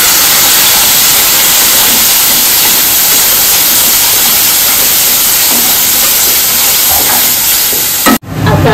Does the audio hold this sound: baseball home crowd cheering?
no